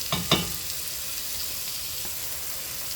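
Vegetables sauté in a pot for Bahamian rice, a steady close hiss of frying oil broken by two quick clanks of a spoon stirring at the start.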